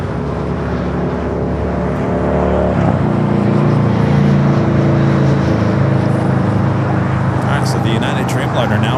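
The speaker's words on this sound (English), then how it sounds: "Dreamliner now rolling down." A Boeing 787 Dreamliner roars along the runway at LAX, a loud continuous jet rumble that swells and holds steady, with a commentator talking over it.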